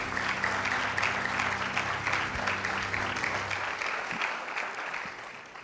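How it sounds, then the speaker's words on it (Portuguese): Congregation applauding during a church worship service, a dense, sustained clapping that fills the room and tapers off toward the end, with low organ or keyboard tones held underneath. "aplauda o Senhor"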